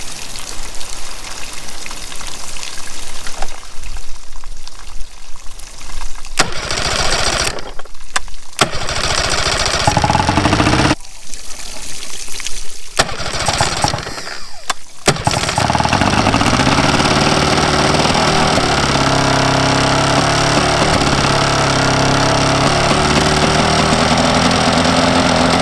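Mariner 40 hp outboard motor cranking in stuttering bursts with brief gaps, then catching and running loud and continuous for the last ten seconds, close up.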